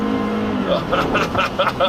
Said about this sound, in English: oh, it is holding those revs